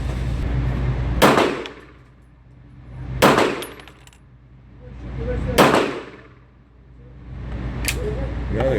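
Staccato P pistol firing, stovepipe jams reported: four sharp, loud, broadband cracks about two seconds apart, each decaying into a swelling ambient rumble between shots.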